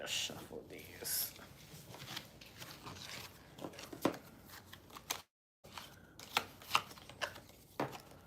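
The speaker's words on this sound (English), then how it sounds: "Let me just shuffle these." Tarot cards are shuffled close by in a quiet room, giving soft repeated riffling and slapping sounds across several seconds, broken by a brief pause, while a voice murmurs underneath.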